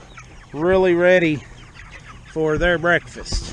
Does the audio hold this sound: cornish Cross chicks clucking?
yes